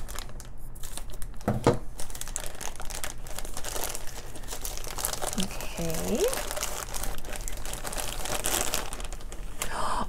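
Crinkling, crumpling plastic blind bag handled close by as it is cut open with scissors, with a brief spoken word and light background noise.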